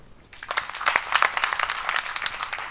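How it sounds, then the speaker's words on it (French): Audience applause at a comedy show, beginning abruptly after a brief quiet moment and continuing as a dense, steady patter of many hands clapping at moderate volume, heard without any talking. "Applaudissez pour vous-même."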